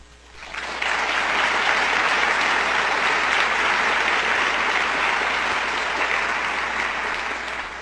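Dense, sustained applause from an audience at a legal lecture event after Justice Chin is introduced. It swells in quickly and holds loud and steady, crowd-wide, with no voices over it.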